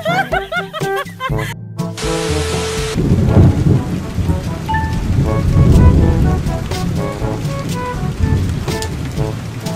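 A thunderstorm with heavy rain pours steadily as thunder rumbles low and close, following a short burst of music and sound effects at the start.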